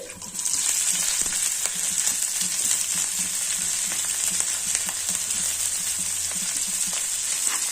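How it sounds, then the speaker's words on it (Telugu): Loud, continuous crackling sizzle of mustard and cumin seeds in hot oil, starting abruptly and holding steady close up, with faint stirring ticks underneath. "పోపు వేసుకోవాలండి"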